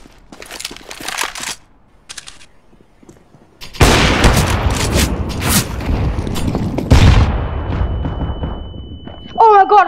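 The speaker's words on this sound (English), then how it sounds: "flashbang!" A flashbang grenade goes off in CS GO with a sudden loud bang, followed by a long rumbling wash and a steady high-pitched ringing tone, while people talk and shout before and during the blast.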